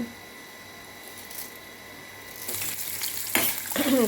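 Chana dal and urad dal fry in oil in a pan, giving a soft, faint sizzle that grows louder and busier partway through, with a few stirring clatters near the end.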